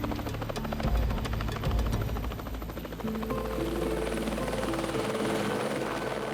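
A helicopter thrums nearby with rapid rotor chop, steady and loud, its engine whine holding throughout.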